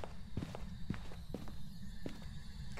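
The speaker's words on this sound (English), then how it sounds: "I heard footsteps and I stepped in the salt." Footsteps in the Phasmophobia ghost-hunting game, with four or five heavy, evenly spaced thuds close by over a steady low background hum.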